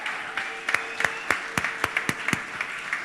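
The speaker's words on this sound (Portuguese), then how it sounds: "Então dê a melhor salva de palmas que você pode dar para ele." Scattered clapping from a church congregation during an anniversary celebration service, a sparse string of distinct, fairly close claps spread over a few seconds against a quiet, roomy background.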